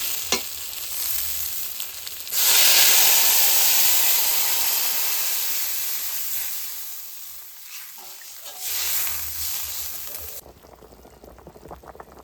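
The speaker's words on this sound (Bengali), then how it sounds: "আলু ভালো করে ভেজে নিয়েছে এবার জল দিয়ে দেবো" Water poured onto fried potatoes in a pan with turmeric and green chilies, cooked village-style, sets off a loud rushing sizzle that slowly fades, then surges briefly again before dropping to a low hiss.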